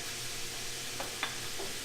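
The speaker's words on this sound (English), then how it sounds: "we'll melt that butter in there" Butter melts in a hot pan for a veal saltimbocca sauce, giving a steady, soft background sizzle with a few faint clinks and stirring touches, no voices.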